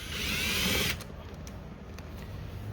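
A small Bauer power drill runs steadily for about a second, backing screws out of a lawn mower deck, then stops, leaving faint clicks and handling noise.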